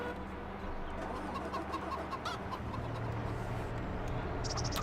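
Chickens clucking on a farm in Farming Simulator 25, repeated close clucks and short calls over a low engine rumble that strengthens midway.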